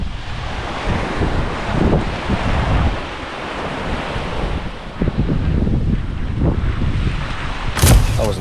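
Sea waves wash and surge on a Lanzarote beach at Puerto del Carmen while someone splashes barefoot in the shallows, with a constant rush of surf and wind buffeting the microphone and no talking.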